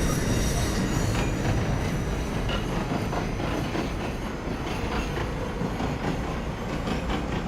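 A simulated NYC Subway R143 train on the J line in the OpenBVE game, running at speed with a dense, loud rolling roar, wheel noise and high squealing wheels throughout, with no voices.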